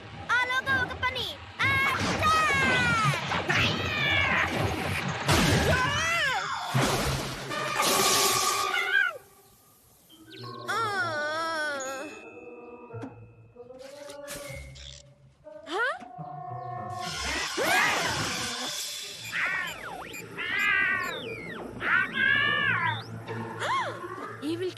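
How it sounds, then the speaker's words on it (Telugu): Cartoon cats meow, yowl and caterwaul in a dubbed Telugu animated series, loud stretched wavering cries rising and falling, with a short quiet gap midway and voices talking around them. "ఈవిల్ క్యాట్స్ ని పిలవడానికి ట్రై చేస్తున్నావా?"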